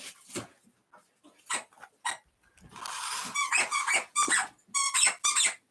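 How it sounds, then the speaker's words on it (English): A dog's squeaky toy squeezed repeatedly, giving a run of sharp, bright squeaks in quick irregular bursts, close by and fairly loud, with no talking over them. "Oh god, now we hear the squeaks."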